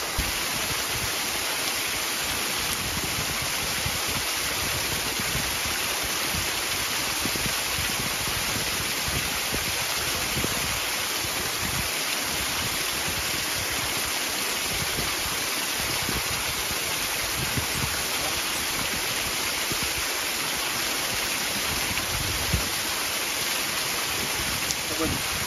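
Below a glacier, a mountain waterfall roars as a constant, dense wash of rushing water that stays loud and unbroken throughout.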